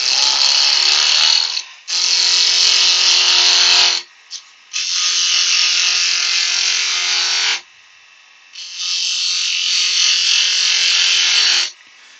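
Wood being turned on a lathe for a cocktail stick holder, shaped with a bowl gouge: loud, steady rasping cuts in four long bursts separated by short pauses, close by with no talking.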